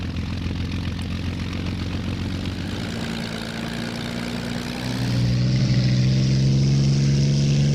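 A Messerschmitt Bf-109 engine drones loudly and steadily in Flight Simulator X. The pitch rises and swells as the throttle is pushed to full power.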